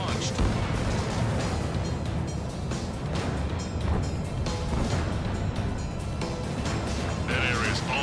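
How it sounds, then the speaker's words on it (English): Missile launches and surrounding aerial combat in the Ace Combat 7 flight game, a dense continuous rumble of engines and explosions with sharp bursts scattered through, steady and fairly loud. "Strider 1, missile launched."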